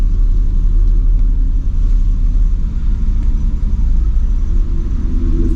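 A Turbo Trans Am engine revving while power braking in a parking lot, a loud, deep, continuous rumble with a pulsing low throb, close and steady for the whole stretch.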